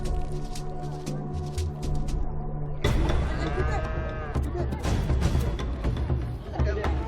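A cow at a village ceremony gives a long, loud moo over steady background ambience, with voices and other livestock sounds around it.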